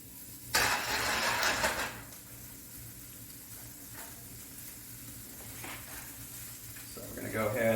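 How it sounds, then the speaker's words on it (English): Onions, peppers and ham for a Denver omelet hit a hot pan with a loud burst of sizzling, then settle into a low frying hiss, and a second sizzle rises at the end. "So we're going to go ahead and saute these."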